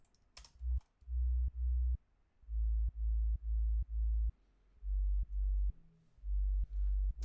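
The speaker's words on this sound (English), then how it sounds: "Yeah, pretty clean sub bass." A clean sub bass synth in FL Studio plays short sustained deep notes in a steady rhythmic pattern, each one cut off sharply, loud and alone with brief clicks at the note starts.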